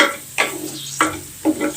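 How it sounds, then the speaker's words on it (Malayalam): Onions and tomato are sautéed and stirred in a pan for a fishless fish-style curry, with a soft sizzle broken by three distinct scraping strokes of the spoon, close and fairly loud. "നന്നായിട്ട് വഴറ്റി കൊടുക്കാം."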